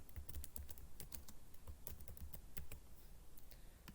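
Rapid keyboard typing on a computer while entering field names into an MS Access table, with irregular bursts of close, crisp key clicks running steadily throughout.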